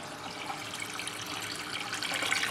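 Water drains steadily through an aquarium gravel siphon, a continuous close rushing trickle that holds at an even level for a few seconds with no talking.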